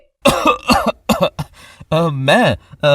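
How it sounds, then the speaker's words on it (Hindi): A person coughs several times in quick bursts, close and loud, followed by a strained, voiced throat sound. "उसकी खांसी निकल जाती है।"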